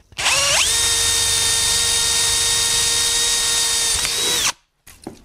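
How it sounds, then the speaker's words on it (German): Bosch cordless drill in first gear boring through metal lubricated with cutting oil, a loud steady high whine that spins up, holds for about four seconds, then stops, followed by a brief clatter. "Jetzt nehmen wir direkt Schneideöl, sprühen dran im ersten Gang mit dem Bosch Akkuschrauber."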